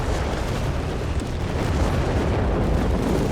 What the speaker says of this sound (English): We got airburst shells here, following up here on the carnage, the chaos, and artillery barrage off as well. Here, everything is exploding one way or the other.